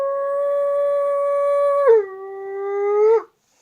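A human voice imitates a deep male wolf howl, with two long sustained tones that drop in pitch partway through, close and clear, then stop abruptly.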